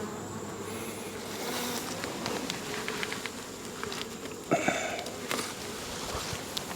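Honeybees buzz steadily around an open hive during an inspection, a constant close hum with faint handling knocks and rustles.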